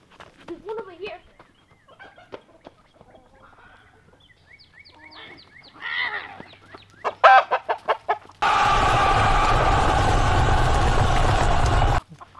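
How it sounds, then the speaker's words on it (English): Roosters on a farm with six birds give repeated clucks and short calls, followed by a loud, sustained crow close by, while a person talks quietly at times. "Yeah, that's definitely a rooster."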